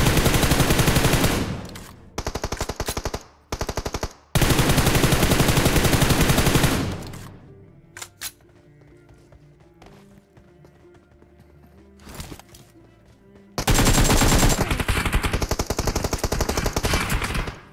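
Heavy automatic gunfire from a battle royale shooter, with loud sustained bursts of rapid shots, brief gaps and a quieter stretch between volleys before a final long burst.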